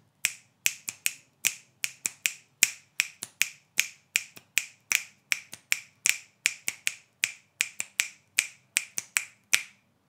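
Crisp finger snaps repeat steadily in a quick, slightly uneven interlocking pattern suggesting a polyrhythm, close and clear with no talking.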